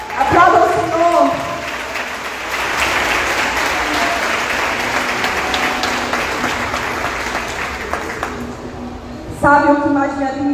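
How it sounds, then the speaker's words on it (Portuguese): A church congregation claps together for the Lord, a sustained wash of dense applause filling the room, with a preacher's voice heard at the start and again at the end. "Olha, aplauda o Senhor."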